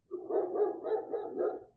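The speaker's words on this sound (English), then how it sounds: "Dogs." A dog barks in a continuous run of rough, muffled barks and yips lasting under two seconds, moderately loud with no talk over it.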